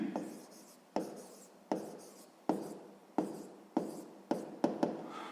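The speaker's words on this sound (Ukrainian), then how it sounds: "Так і запишемо." Pen strokes on paper while working a sixth-grade maths exercise, a series of about ten sharp scratching strokes at irregular intervals, each fading quickly, close and fairly quiet with no talk.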